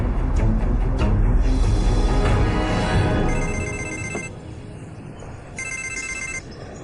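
A telephone rings during a tense call scene in a romance drama, bright repeated ringtone bursts over busy background sound and music, loud and close, returning in a second burst near the end, with no speech.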